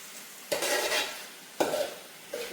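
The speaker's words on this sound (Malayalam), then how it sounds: "നന്നായിട്ട് ഇതേപോലെ കുറച്ച് നേരം ഇളക്കി കൊടുക്കുക." A spoon scrapes and stirs a dish in a cooking pot on the stove, two or three distinct scraping strokes over a faint, steady background sizzle.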